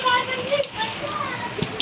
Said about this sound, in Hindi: बाहर भी ना देखो भाई, 12 बजे से दोस्तों बारिश हो रही है और अभी भी हो ही रही है।